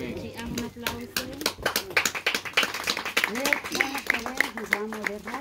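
Clapping from a small gathering for a mother's birthday celebration in Joyabaj, Quiché, steady claps under an ongoing voice that speaks through the whole stretch.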